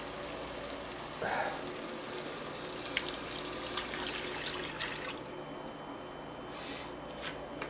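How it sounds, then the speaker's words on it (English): About two cups of milk poured into gravy in a pan make a quiet, continuous liquid splashing and trickling with a few faint clinks. "now finally, you just dump in about 2 cups of milk"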